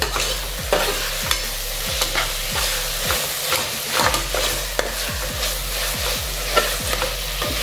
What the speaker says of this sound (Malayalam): മല്ലിയില ഇട്ട് വീണ്ടും ഒന്ന് ഇളക്കുക